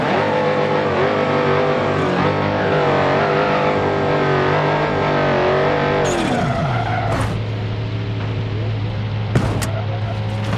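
Dodge Charger EV fitted with a 1000 hp Hellephant engine races in BeamNG.drive multiplayer, a loud sustained engine roar that drops in pitch around the middle, with tire skids and brief sharp bangs near the end.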